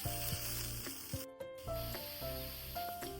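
Onion fries in a pan as masala is cooked for Kolhapur dry chicken. A soft, continuous hissing sizzle sounds close by, with a brief dip partway through and faint melodic background music.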